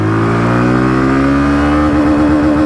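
A Hero Glamour X 125 motorcycle engine revs loudly and close, with its whining pitch climbing steadily as it accelerates and then shifting as it changes gear, running continuously without speech.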